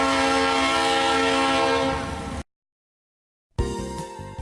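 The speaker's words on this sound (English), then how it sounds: "Number 688 blew its Leslie horn at the crossing." A former Santa Fe C44-9W locomotive sounds its Leslie horn at a crossing. The horn blares loud and close with a sustained chord, then cuts off abruptly. After a gap of silence, rumbling wheel noise follows.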